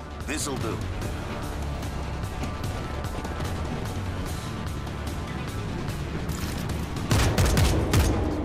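Rapid gunfire bursts rattle through a chaotic firefight in the World War Z zombie shooter, continuous and dense, growing louder near the end, with shouting voices over the shots.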